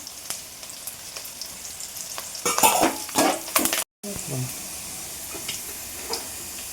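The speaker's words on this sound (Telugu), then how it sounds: "ఈ ఆనియన్ పచ్చిమిర్చి కూడా బాగా వేగాలండి. కరివేపాకు కూడా వేసేసుకుందాము." Onion, green chillies and curry leaves frying in a pan for chicken fried rice, with a continuous close sizzle and a louder burst of crackling and spoon clatter midway before it settles back to a softer fry.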